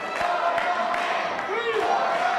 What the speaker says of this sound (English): The crowd trying to rally behind Reed